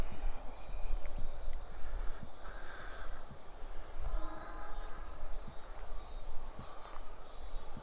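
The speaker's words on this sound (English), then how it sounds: "I don't know if you guys can see that train up there through the trees." A low, continuous rumble of a train rolling along the tracks at a distance beyond trees, heard from Shinjuku Gyoen garden in Tokyo, steady and fairly faint.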